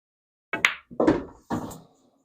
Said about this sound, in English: I want to give myself a good straight shot so I can just do